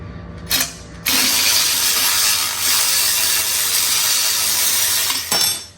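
A hand tool ratchets a bolt loose from the exhaust bracket of a 2023 Yamaha R1M sportbike, a loud, steady close-up whirring rattle lasting several seconds, bracketed by short clicks, with no talk.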